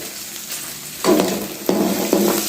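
Okra (bhindi) fries in oil with a steady close sizzle, broken by three scraping stirs of a utensil through the pan.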